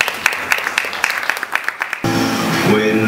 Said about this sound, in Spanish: Rubén, Víctor, un aplauso para ellos